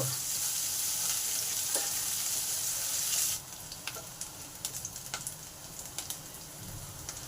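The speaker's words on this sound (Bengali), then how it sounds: "লঙ্কা রসুন গুলো ভালো করে ভাজা হয়ে গেছে" Chillies and garlic frying in hot oil, with a loud, steady sizzle that drops sharply partway through to a quieter crackle broken by several spoon clicks and stirring scrapes.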